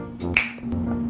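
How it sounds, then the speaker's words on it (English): One crisp finger snap lands sharply and close, a short dry click standing out over a faint steady hum in an otherwise quiet room. "I'm gonna get decked out right now when I snap my fingers"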